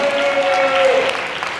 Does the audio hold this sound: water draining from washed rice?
no